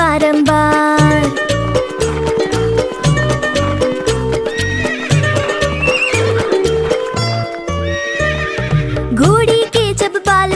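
A horse whinnies loudly and repeatedly over rhythmic clip-clop hoofbeats, playing with a nursery-rhyme song about a wooden horse.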